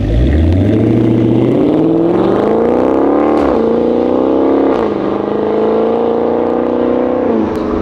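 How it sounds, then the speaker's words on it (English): A loud Dodge Charger engine with valved exhaust opened revs up and holds a deep, rising roar, dipping and climbing again in steady pulls throughout. "you're gonna see what it sounds like when the valves are open"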